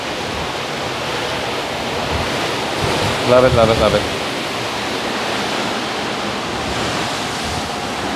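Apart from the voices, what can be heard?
ocean waves and wind from cruise ship deck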